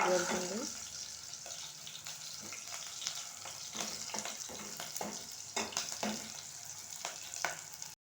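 Green chillies fry in a pan with a steady loud sizzle, punctuated by scraping stirs and clinks, while a voice talks faintly underneath.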